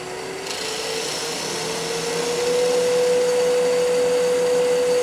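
A wood lathe spins at full speed while a detail gouge cuts a small pen holder piece, giving a steady whining hum with a rising pitched tone and broadband cutting hiss, close and continuous.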